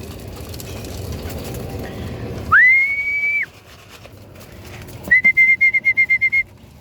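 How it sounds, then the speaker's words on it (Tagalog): Mouth whistling calls racing pigeons: one long rising whistle, then a quick run of about eight short, sharp repeated bursts, heard close and loud over a quiet outdoor background. "Mano-mano sipol lang na nakalimutan kong dalhin yung pito natin doon eh."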